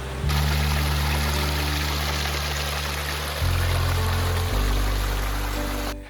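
Creek water running over a flooded backpacking trail on the Black Forest Trail near Pine Creek Gorge, a loud, close, continuous rushing flow under a low steady hum, with no talking.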